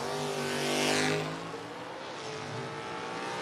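Drag race cars, a wagon against a 1968 Super B, roar loudly with strong harmonic engine drone that swells and then fades slightly as they pass, without talk.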